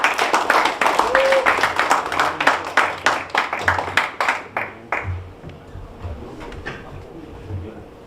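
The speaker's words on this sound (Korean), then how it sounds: "큰 박수로 반겨주십시오." Audience applause welcoming a company CEO onstage at a Korean job-talk concert, a burst of many hands clapping loudly and densely that thins into scattered claps and fades out over several seconds.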